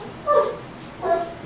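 A dog gives two short yelping whimpers during a thunderstorm, spaced about a second apart, moderately close against a quiet background.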